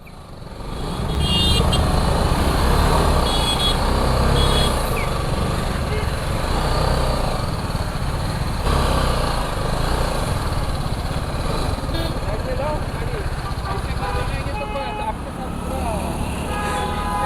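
A vehicle engine labours loudly and steadily as it climbs a steep road toward Zenith Waterfall near Khopoli, a continuous close drone with faint voices underneath.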